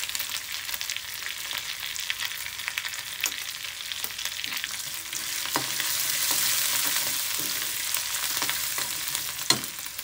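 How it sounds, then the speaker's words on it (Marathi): Masala with a pinch of turmeric fries in a pan for a cauliflower and pea curry, a loud continuous sizzle broken by repeated scraping stirs and a sharp clink near the end, close up with no voices. "याला थोडंसं फ्राय करून घेऊ आपण."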